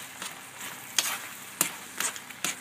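A pot of ginataang langka, canned jackfruit simmering in coconut milk, being stirred, with a few soft scraping and sizzling strokes at irregular intervals, fairly quiet and close with no talking.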